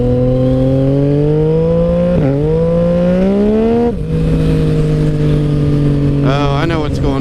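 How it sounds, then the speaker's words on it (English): A motorcycle running with its clutch lever adjusted too tight: a loud, close engine whine with tones that rise and dip in steps, plus a rough, wavering noise toward the end. "My clutch, you hear that? I adjusted my clutch lever too tight."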